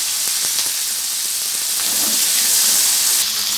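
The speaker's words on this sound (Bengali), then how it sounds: "এইবার এই কড়াইতে দিয়ে দেবো কেটে রাখা ক্যাপসিকামগুলো" Chopped capsicum frying in a wok: a dense, bright hiss of sizzling oil, steady and close, getting a little louder toward the end, with no talking.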